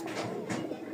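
Lotan pigeons kept for sale coo softly nearby in two brief, low, throaty phrases over faint background noise.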